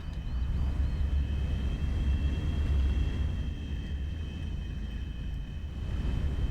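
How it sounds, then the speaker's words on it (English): A steady droning aircraft engine hums through a flight in Entropia Universe, a continuous low rumble with a faint high whine, loud and unbroken with no talk. "We're gonna go for a little flight."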